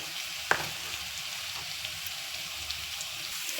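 Green chili paste and turmeric fry in hot oil for mango pulihora, giving a continuous close sizzle with one sharp pop early on and scattered soft crackles.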